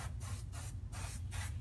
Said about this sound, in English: I am going to angle spray.